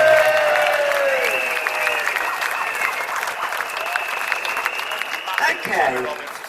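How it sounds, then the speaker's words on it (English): A street demonstration crowd in London applauds at an outdoor rally, steady clapping mixed with cheering voices and crowd noise, with a louder burst near the end. "So I appreciate a big round of applause to listen to"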